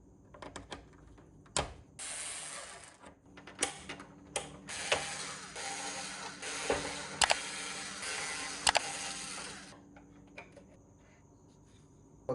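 Screws being removed to take out the seat of a new Willys jeep, with bursts of ratcheting tool whirring, metallic clicks and sharp knocks, close and intermittent with quiet gaps; no talking.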